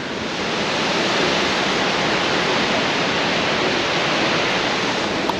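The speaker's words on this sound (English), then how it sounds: "Check out the waterfall." Waterfall at Bell Gorge along the Gibb River Road, a dense, constant roar of falling water that swells in at the start and then holds loud and unbroken.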